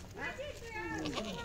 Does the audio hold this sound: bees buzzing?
no